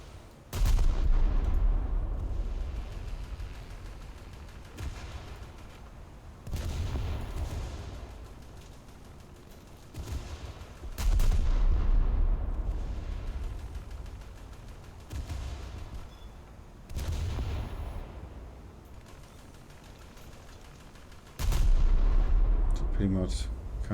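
Naval warship guns firing in a video game. Deep booming salvos roll out roughly every five seconds, each loud blast fading into a long rumbling tail.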